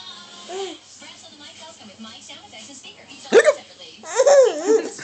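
A young child hiccups in a few sudden sharp bursts mixed with giggling and babbling, close by, with an adult voice also heard.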